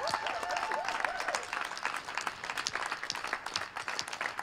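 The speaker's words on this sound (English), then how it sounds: "Let's give them a huge round of applause." A round of applause from the audience at a Burlington Ward 3 city council candidates' caucus, many hands clapping in a steady, fairly soft patter that carries on evenly.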